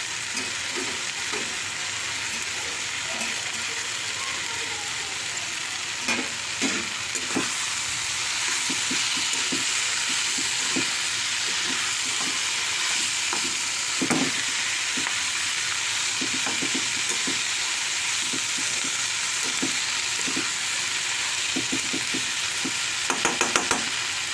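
Prawns and spring onion greens fry in a pan, giving a loud, steady sizzle throughout. Frequent scraping stirs and clinks from a utensil cut through it, with no voices.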